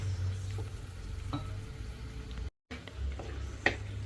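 Small tomato pieces fry in oil in a clay pot for a fish curry, a low steady sizzle with occasional stirring scrapes and one sharp clack, close and fairly quiet.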